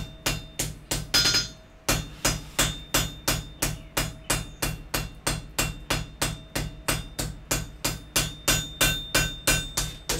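Hammer forging wrought iron on an anvil, a long run of evenly spaced, sharp ringing blows at a steady rhythm with a brief brushing pause near the start, close and clear with no talk.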